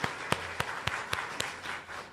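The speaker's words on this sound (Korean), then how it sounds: "우리 하나님께 영광의 박수 함께 올려드리겠습니다" A church congregation at a Korean church's Sunday worship service in Tashkent claps in a slow, steady rhythm, each clap sharp and distinct but quiet and somewhat distant.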